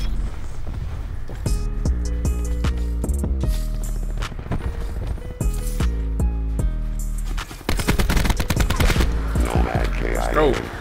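Rapid gunfire in a first-person shooter video game, loud bursts of automatic shots repeating closely over game music and effects, with short pauses between volleys.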